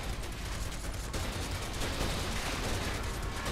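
Rapid gunfire in Final Fantasy VII Remake shooting at objects, a dense continuous rattle of shots that stays loud and even across the whole stretch, no speech.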